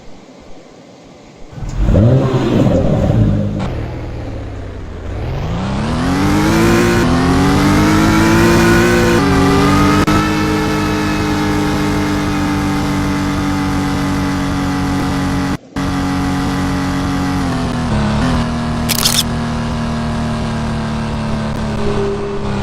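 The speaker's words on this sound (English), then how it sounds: "So in the city I drive the NSX" An Acura NSX in the Driving Empire video game revs hard, then settles into a loud, sustained engine roar that climbs through the gears with rising and shifting pitch, briefly cutting out once before continuing steadily.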